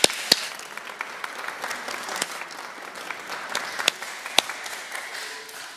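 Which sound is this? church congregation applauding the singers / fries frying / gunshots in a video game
church congregation applauding the singers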